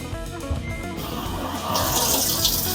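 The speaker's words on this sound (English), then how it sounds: "Water taken to the machine." Water rushes steadily into a Samsung washing machine showing error 4C, a constant hissing gush that swells louder partway through, close by with no talking.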